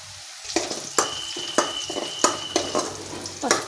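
Turmeric fries in hot oil in a pan, a steady close sizzle broken by regular scraping stirs roughly every half second.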